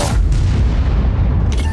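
One loud tank cannon shot fires in a tank video game, a heavy booming blast with a deep rumbling tail that lasts under two seconds.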